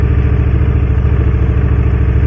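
A QJ Motors 600cc motorcycle engine idles steadily and close at a test ride event, a low, even, continuous rumble with a regular pulsing throb and no speech over it.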